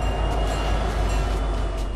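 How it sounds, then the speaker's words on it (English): A train in the Fortnite video game rumbles along in a steady, loud, continuous low roar with no breaks. "Do you hear the train coming?"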